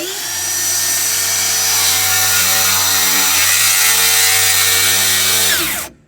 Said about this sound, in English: Rip, stop, let the saw come to a complete stop.